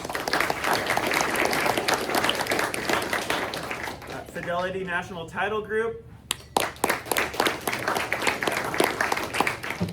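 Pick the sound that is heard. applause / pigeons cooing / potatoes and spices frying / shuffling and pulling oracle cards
applause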